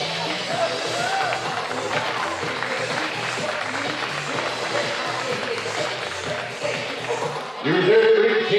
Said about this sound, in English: Round of applause for Carly